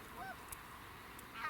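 Geese honking during a goose hunt in a snowstorm, a few brief distant calls over steady wind-like background noise.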